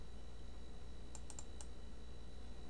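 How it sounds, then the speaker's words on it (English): Several quick, sharp computer mouse clicks, including a double click, close and crisp against a steady low background hum. "Watch what happens when I double click this."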